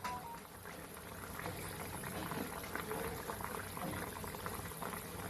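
Tap water runs steadily while cucumbers are rinsed in a home kitchen, a continuous splashing wash that stays even and close for the whole stretch, with no one speaking.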